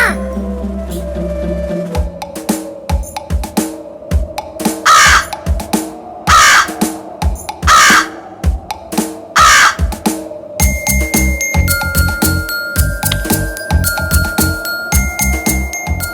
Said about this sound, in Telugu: కాకి కాసేపు అలా ఎదురు చూసింది.